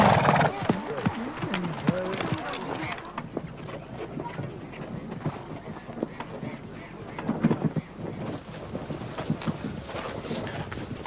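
Horses' hooves clip-clop at a slow walk on hard ground, fairly close, with a brief whinny near the start, under steady voices talking throughout.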